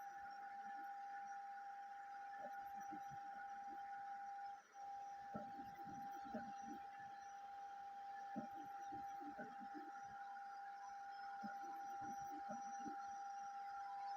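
A Creality K1 3D printer runs at normal speed, giving a steady high electronic whine and fan hum with faint clicks and stepper-motor movements throughout, quiet and continuous.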